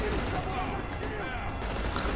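Dense gunfire and fusillade from a co-op third-person shooter battle, sustained and loud across the whole moment with overlapping bursts, a voice faintly mixed in underneath the shooting.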